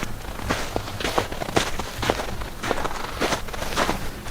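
Footsteps crunch along a quiet forest trail in French Creek State Park, Pennsylvania, in an even walking rhythm of soft, close steps over a light outdoor background.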